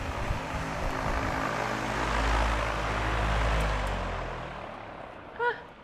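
A steady whooshing drone of a running fan fills the space, continuous and fairly close, with a low hum swelling midway before it winds down.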